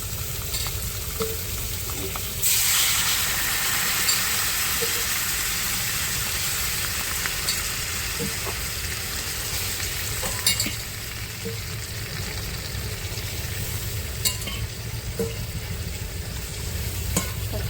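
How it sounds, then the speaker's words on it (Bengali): Stingray fish curry simmering in a pan after water is added, giving a steady, close bubbling sizzle throughout with occasional clinks of stirring and no talk. "দেখো তরকারিটা ফুটছে"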